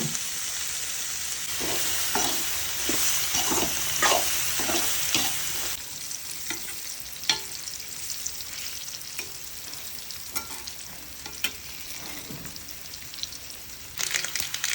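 Raw tapioca (cassava) slices fry in a pan with a steady crackling sizzle and occasional stirring clicks. The sound is louder and denser for the first few seconds, then settles into a softer, even hiss.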